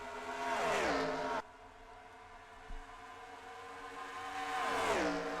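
Race cars in a video game stock-car race roar past in two close pass-bys at the start and end, engines rising and falling in pitch over a steady engine drone.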